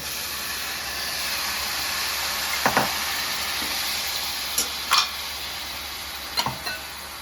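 Country chicken pieces sizzle in a pan for a ragi sangati and country chicken stew, a steady close frying hiss with a few brief clinks of stirring.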